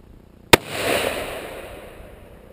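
A single loud rifle shot cracks close by outdoors, followed by a long rolling echo that fades over the next two seconds.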